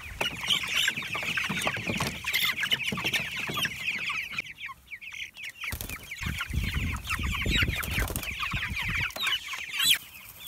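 Farm chickens clucking continuously at close range, overlapping calls in a busy, uneven chatter with a brief lull partway through, heard alone without talk.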